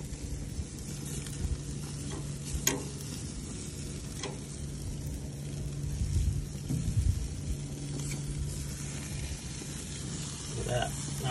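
Marinated vegetables sizzle on a hot grill, a steady broadband hiss with scattered small pops and occasional clinks, running throughout at moderate level.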